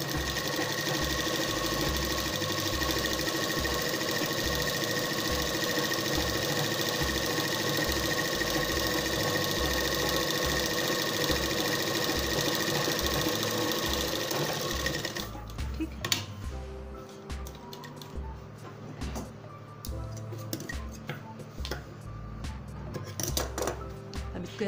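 A sewing machine runs steadily stitching the back panel of designer shorts, a fast even needle rhythm close up for about fifteen seconds, then stops, leaving quieter handling clicks and rustles of fabric.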